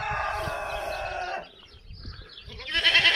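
Goats bleating loudly and close by at a Turkish village farm among other livestock, with a sustained cry, a short lull, then a fresh burst of bleating near the end.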